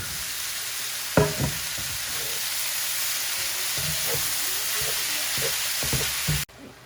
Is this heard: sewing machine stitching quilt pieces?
no